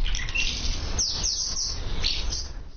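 Birds chirp around hundreds of handmade rooftop nests built from sawdust and plaster on a house in a village in southern Hungary, brief high calls repeating over a steady low outdoor rumble.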